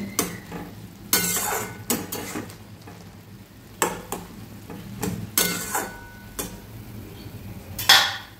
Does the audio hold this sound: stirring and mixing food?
yes